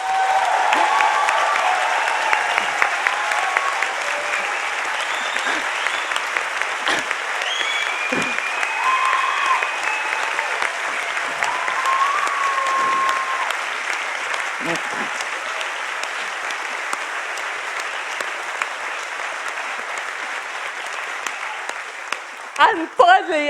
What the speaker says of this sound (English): I really want everyone to give them a huge round of applause